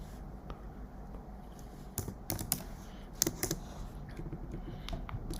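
Quiet typing on a computer keyboard, with irregular soft clicks and a few sharper clustered key taps over low background hiss.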